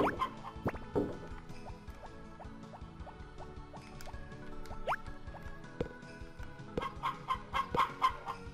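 Chickens cluck in the Harvest Moon: Back To Nature farm game, a steady run of short, evenly spaced electronic clucks with bright chiming tones near the start and end, and no talking.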